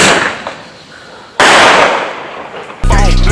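Fireworks or firecrackers set off outdoors: loud, harsh crackling blasts with a sudden burst midway, then an abrupt cut to a different loud passage with music.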